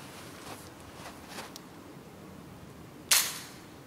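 A single sharp, loud FX Impact PCP air rifle shot rings out near the end after a few faint mechanical clicks and handling noises.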